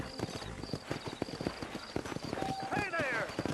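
Horse hooves clip-clop at a steady trot on a dirt trail in Red Dead Redemption, close and rhythmic, with a brief whinny near the end and a faint tonal chirp above.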